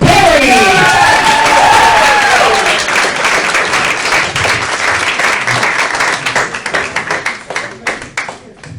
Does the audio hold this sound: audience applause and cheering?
yes